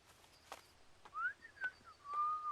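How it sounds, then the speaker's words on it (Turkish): A few short whistled tones, some rising, sounded by a person against quiet outdoor background, with faint bird-like chirps between them. "Neden ıslık çalıyorsun?"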